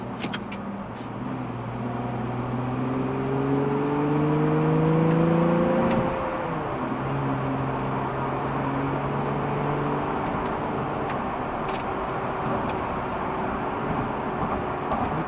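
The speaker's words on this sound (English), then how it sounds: "now we're going to test out those paddle shifters" A 2019 Nissan 370Z Nismo accelerates with paddle-shifted gear changes, its engine note rising steadily before a quick shift drops the pitch, then a lower cruising drone with road and tyre noise inside the cabin.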